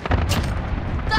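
Cluster strike explosions in Call of Duty Modern Warfare team deathmatch, a loud cluster of booming blasts and cracking impacts in quick succession over about a second.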